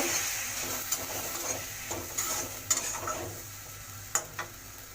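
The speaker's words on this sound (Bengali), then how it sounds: "মশলাটা দিয়ে দিলাম, এবার একটু কষিয়ে নেব" Spices with turmeric and chili powder, along with coriander and cumin powder, sizzle softly in a pan for ghugni, with a spatula scraping and tapping in scattered strokes over a quiet, steady hiss.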